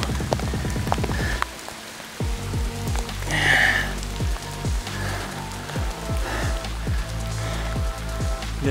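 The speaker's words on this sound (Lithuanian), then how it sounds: "Lietutis šiandien glosto gan stipriai." Fairly heavy rain patters steadily on a moving vehicle during a road trip, a close, continuous drumming layered over a rising and falling engine drone.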